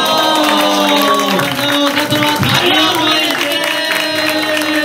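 An audience at an anime-song dance battle applauds and cheers after the judging, a dense, steady wash of clapping and crowd noise with music-like tones underneath and no clear voices.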